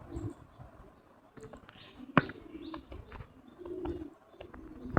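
Pigeons on a farm coo softly amid faint chirps and scattered background rustling, with one sharp click standing out midway.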